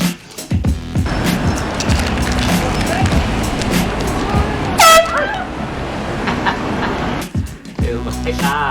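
Loud air horn in a prank, a short piercing blast in the middle of a busy noisy scene with voices and laughter around it.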